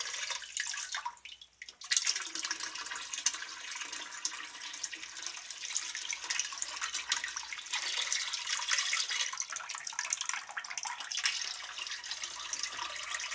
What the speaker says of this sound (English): The system is ready to be flushed out.